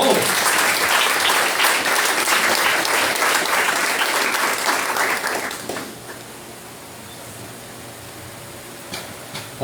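A church congregation claps during a Holy Communion service, a dense, loud applause lasting about six seconds that then drops away to quiet room tone with faint stray sounds.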